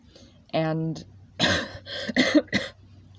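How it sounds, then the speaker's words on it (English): A woman recovering from an illness gives a few short, close coughs and throat-clearing sounds, after a brief voiced sound at the start. "I still have a little bit of a lingering cough"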